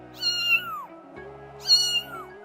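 A cat meows twice, evenly spaced, each call rising and falling, clear and close with a low steady hum underneath.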